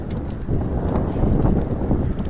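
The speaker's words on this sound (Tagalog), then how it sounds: "medyo mahangin lang ngayon." Wind buffets the microphone during a solo bicycle ride, a heavy low rumbling gust that roars continuously and close, with a few faint ticking clicks above it and no speech.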